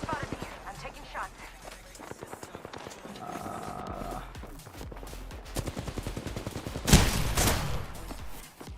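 Apex Legends gunfire rattles in rapid bursts throughout, growing into a loud close volley near the end, with footsteps and a speaking voice mixed underneath.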